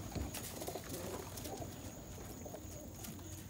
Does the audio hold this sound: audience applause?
no